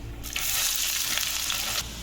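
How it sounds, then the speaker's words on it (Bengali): Chopped onions hit hot oil for a mutton curry, bursting into a loud, bright sizzle that holds steady for about a second and a half before suddenly dropping back to a quieter background. "ফোড়নটা ভাজা হয়ে গেছে, এবার কুচনো পেঁয়াজ দিয়ে দিচ্ছি।"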